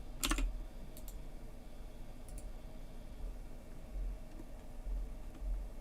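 A computer keyboard is typed on in a few sparse, soft clicks and taps, faint against low background hiss, as a player's name is entered during free agency.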